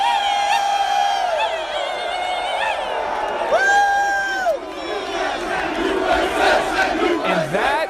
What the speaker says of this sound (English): The crowd getting rowdy before he tees off.